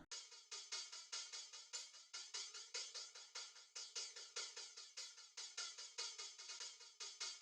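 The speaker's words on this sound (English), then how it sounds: "So I found 2 of these samples that was kind of what the vibe I was going for" Quiet, rapid live hi-hat samples with flanger tick in a steady, fast rhythm, bright and hissy with a swirling, sweeping tone and no low end.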